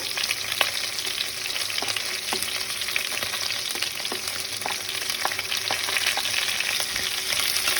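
Garlic and onion go into a pan with browned pork ribs and fry with a steady, close sizzle, punctuated by sharp clicks of stirring throughout, with no talking.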